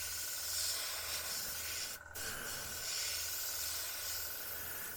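An airbrush sprays green paint along a masking template on a Tamiya M1A2 Abrams model tank, giving a steady soft hiss throughout with one brief pause near the middle.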